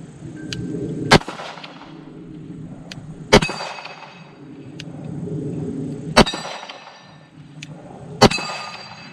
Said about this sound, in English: I shot that one a little bit too quick. It was really swinging, but I did hit it.